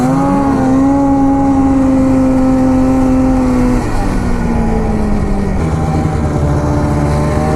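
A snowmobile engine revs under a large thumb throttle. The close, loud, buzzing motor tone holds high, then drops in pitch and settles into a lower steady drone.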